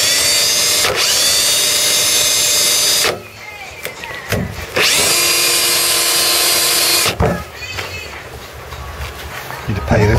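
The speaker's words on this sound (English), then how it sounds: "We've got a 35mm 4s and a bit in the drill." A power drill fitted with a 35mm bit whines loudly in two long bursts while boring a hole, its motor pitch steady with a grinding edge, separated by a brief pause and followed by quieter handling noise.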